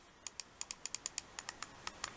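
Crisp, light clicks of a PICTEK wired gaming mouse's buttons come one after another in an uneven series of about fourteen, close up and sharp against a quiet background.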